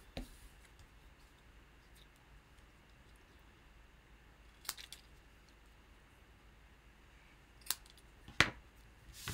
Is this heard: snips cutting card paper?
yes